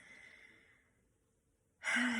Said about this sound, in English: what I'm doing right now, the breathing, deep breathing